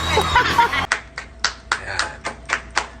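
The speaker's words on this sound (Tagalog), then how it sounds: "Palakpak, palakpak, klap, klap, klap, klap, klap." Sharp claps or snaps ring out one at a time, about seven in a loose steady rhythm after a burst of noisy activity at the start.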